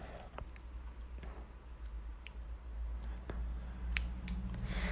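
Scissors trimming the end of metal goldwork embroidery thread: small, faint snips and clicks against a steady low hum, nearby and quiet, with no talking.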